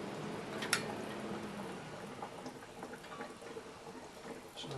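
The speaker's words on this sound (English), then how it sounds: "You can hear quite a bit of gurgling and vacuum." Coolant gurgling and vacuum hiss inside a Mazda B4000 engine with the radiator drained, a faint, steady bubbling wash with one sharp click near the start and soft trickling throughout.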